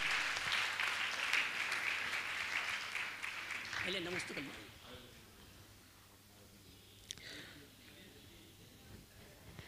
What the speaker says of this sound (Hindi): मैं चाहूँगा इन सभी पत्रकारों का आप जोरदार ताली बजाकर इनका सम्मान करें।